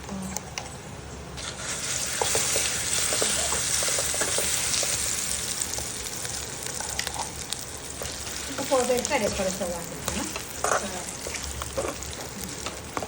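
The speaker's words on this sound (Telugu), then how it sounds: "ఇప్పుడు పోపేస్తాను" Spices tempering in hot oil for a ridge gourd and coconut chutney, a loud bright crackling sizzle that starts suddenly and carries on steadily, with popping and spluttering bursts and faint voices in the background.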